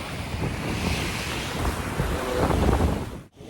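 Sea waves wash onto Aravali beach at Shiroda as the tide rises: a close surf roar that swells and breaks, mixed with heavy wind buffeting the microphone and a brief dropout near the end.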